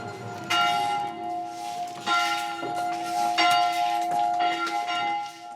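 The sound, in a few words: church bell ringing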